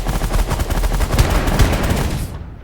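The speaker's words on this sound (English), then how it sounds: "this one here is the minigun does the best damage" A minigun in the space strategy game The Last Federation fires a loud, dense stream of rapid shots that rattle on continuously for a couple of seconds before cutting off abruptly.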